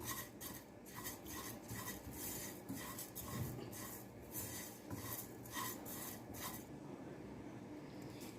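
Coriander seeds and cumin dry roasting in a pan, stirred with a utensil: faint, steady rasping and scraping strokes in a loose rhythm, quiet and close, with no talk.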